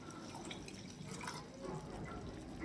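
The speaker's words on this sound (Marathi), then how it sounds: "आणि आता याच्यामध्ये टाकणार आहे मी आणखीन थोडंसं पाणी." Water poured into a pan of creamy malai gravy at home, a soft, steady trickling and dripping that runs on throughout at modest volume, with no voices.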